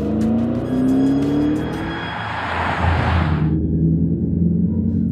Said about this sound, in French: ce grondement façon V8 est totalement factice